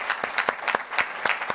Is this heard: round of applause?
yes